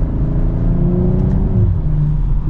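A 2024 BMW M240i xDrive in Sport Plus mode accelerates hard, its engine note a loud, steady rising drone heard from inside the cabin that eases off briefly near the end.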